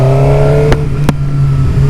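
A 2009 Suzuki GSX-R 600 sport motorcycle pulls away in first gear with a steady, loud engine drone and a couple of brief sharp clicks, with no talking.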